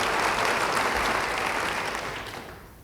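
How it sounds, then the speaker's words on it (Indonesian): A church congregation applauds during a sermon, a broad wash of clapping that holds steady and then fades away toward the end. "Yang percaya beri tepuk tangan bagi dia"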